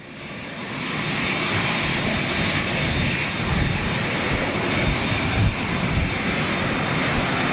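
A Boeing 737 jet coming in to land at high speed and a steep angle, a broad, steady engine roar that rises quickly and then holds loud and sustained, close overhead with no talk.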